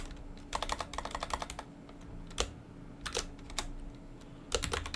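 Fingers typing on a computer keyboard, quick bursts of close, crisp key clicks separated by short pauses.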